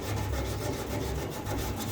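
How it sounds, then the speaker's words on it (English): Steady, continuous abrasive rubbing of sanding against a car body, close and fairly loud, with no pauses or voices. "Loads of sanding."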